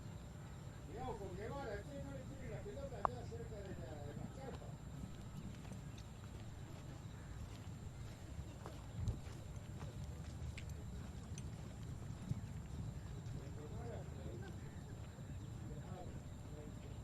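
Polo horses warming up before the second half at a 12-goal polo match, EMAAR Polo Cup, with faint hoof clip-clops and a low outdoor rumble heard under a commentator's talk.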